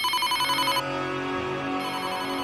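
An incoming call rings on a phone: a bright, tonal electronic ringtone pulses rapidly, breaks off, then returns softly with a continuing melodic tone.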